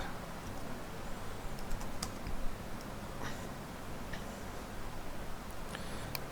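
Soft, quick keystrokes on a computer keyboard as a search term is typed, faint clicks scattered over a quiet hiss with a low hum underneath.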